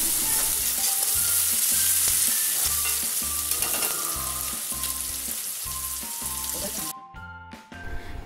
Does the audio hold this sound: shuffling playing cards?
no